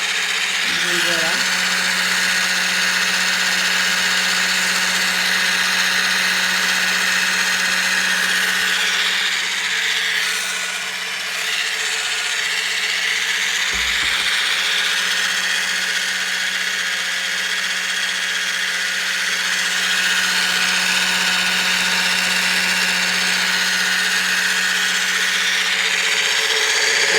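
A Thermomix blends egg, sugar and oil into muffin batter, giving a loud, steady motor whir close by that runs unbroken for the whole stretch.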